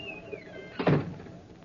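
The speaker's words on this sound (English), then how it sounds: "Shut the door behind you." A door is shut in a 1943 radio drama, a single solid thunk with a short rattle of the latch. It follows a faint rising tone and fades after the impact.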